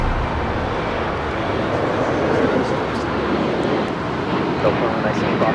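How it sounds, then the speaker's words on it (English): A JetBlue Airways Airbus A321neo departs Los Angeles International Airport bound for JFK, a broad, steady jet roar with wind noise that swells slightly midway and stays loud throughout. "That was JetBlue Airways Flight 524 heading to JFK and then A321 Neo"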